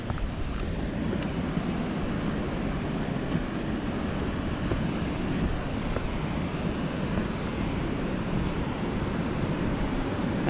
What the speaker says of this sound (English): You can hear the weir in the background.